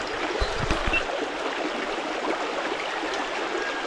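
A mountain trout stream's current makes a steady rushing wash, with a few soft low knocks near the start and no voices.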